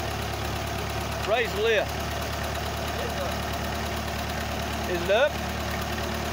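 A Ferguson TE20 tractor engine idles with a steady low knocking chug throughout, while people talk briefly over it at two points.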